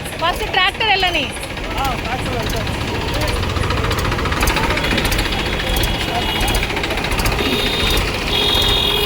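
A tractor engine runs nearby with a loud, steady rumbling chug that lasts the whole time, while people talk over it at the start.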